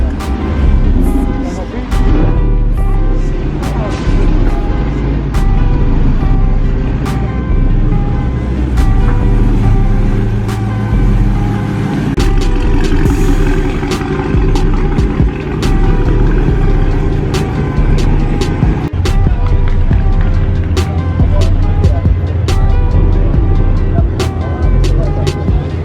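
A Dodge Hellcat engine rumbles at a busy Mopar car meet, with a steady low growl and surrounding vehicle noise through the whole stretch, while people talk nearby.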